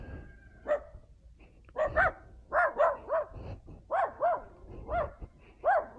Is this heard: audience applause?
no